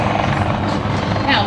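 Airshow helicopter act at the 2011 Blue Angels Homecoming, a steady loud rotor and engine drone filling the whole stretch, with a public-address voice talking over it throughout.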